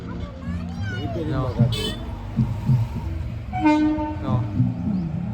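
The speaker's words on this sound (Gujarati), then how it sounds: "હોર્ન હોર્ન મારતો આવે" A lone electric locomotive, running without coaches, passes and gives two horn blasts, a short one and then a longer, louder one, over steady rumble, with voices in the background.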